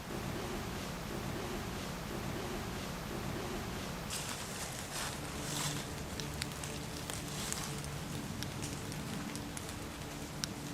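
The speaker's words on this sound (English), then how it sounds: "Just as we hear something, rain starts coming down." Rain begins falling in woodland, a faint, soft patter of scattered drops on leaves that thickens into a denser hiss partway through.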